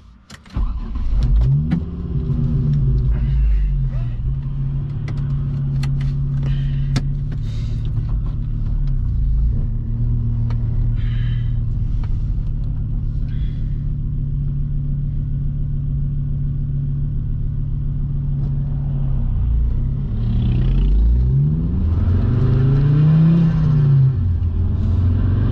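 A 500 BHP Ford Focus ST225 pulls away and drives, heard from inside: the engine starts with a sharp burst, then a loud, steady rumble carries through, with a rising rev near the end.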